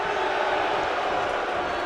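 Home crowd at a Toronto wrestling show cheering and roaring steadily throughout, a dense, sustained wash of voices with no pauses.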